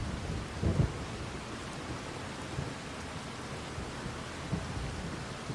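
Steady rain hisses in Farming Simulator 25 with low rumbles of thunder, a continuous moderate wash of noise with a couple of faint thumps.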